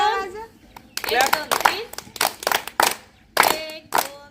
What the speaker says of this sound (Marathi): अभिनंदन करा टाळ्या वाजवा